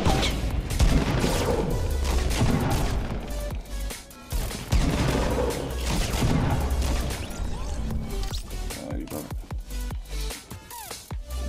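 Gunfire in the Fortnite battle royale game, dense bursts of rapid shots and crashing impacts that go on almost without a break, loud and close throughout.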